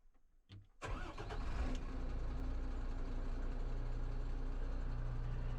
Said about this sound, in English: Start engine and allow to reach normal operating temperatures.